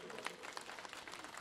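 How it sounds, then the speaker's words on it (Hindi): A crowd at a political rally claps in a steady, dense patter of applause, faint and distant, running continuously without a break. "सबके लिए जोरदार ताली बजा दो एक बार"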